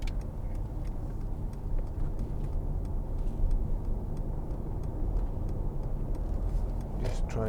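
A 2015 Mercedes-Benz C-Class pulls along an open road in a steady, dense rush of road and engine noise, with a faint regular ticking running through it and a brief rustle at the end.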